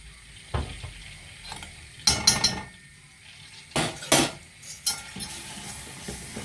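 A spoon clinks and scrapes against a bowl while cornstarch mixture is stirred for schnitzel, several short bright clattering bursts between quiet gaps.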